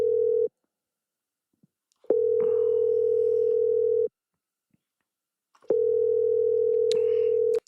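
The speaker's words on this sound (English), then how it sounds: "We're trying to call him back." Telephone dial tone during a call-back attempt, a steady loud tone sounding in three long bursts separated by silent gaps, with no talk over it.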